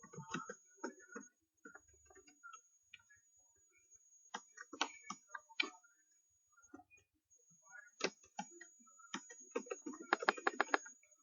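Fingers type on a computer keyboard in quiet, irregular bursts of close, light key clicks with short pauses between them.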